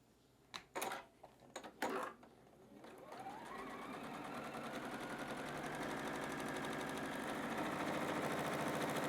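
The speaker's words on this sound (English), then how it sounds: "We're just going to sew all the way through nice and straight." A sewing machine stitches a quilt block with a 1/4 inch seam. A few sharp taps and handling knocks come first, then the motor hums in a steady, close, continuous run of stitching that builds slightly.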